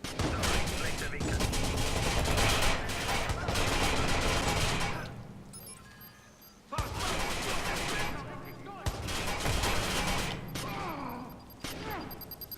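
Rapid bursts of gunfire from a German-language playthrough of the video game Watch Dogs, loud and dense with a brief lull midway, mixed with game sounds and someone talking over the shooting.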